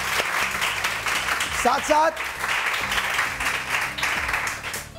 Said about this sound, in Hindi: रानी आपा के लिए बहुत सारी तालियां